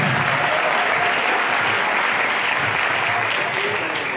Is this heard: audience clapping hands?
yes